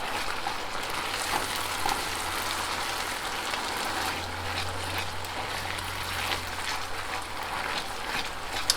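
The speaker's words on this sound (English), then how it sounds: "I'm starting to see a little bit of a sizzle" Risotto with garlic and pine nuts sizzles steadily in a hot pan, a dense, even crackle that runs close and constant throughout with no voices over it.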